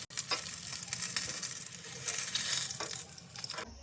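Chicken leg pieces for tandoori chicken fry in oil in a pan with a steady, continuous sizzle, close and moderately loud, with faint clinks of stirring over the hiss and no talking.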